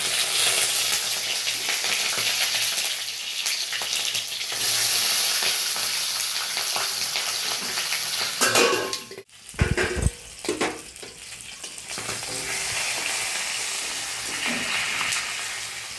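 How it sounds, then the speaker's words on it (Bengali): Loud, continuous sizzling of fish heads frying in hot oil, with a brief clatter and stirring midway before the steady crackle resumes. "এবারে মাছের মাথাগুলোকে আমি ভেজে নেবো"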